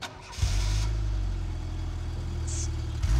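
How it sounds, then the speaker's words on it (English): A Mazda RX-7 engine cranks and catches, then settles into a steady, smooth idle close by. "can we start the car?"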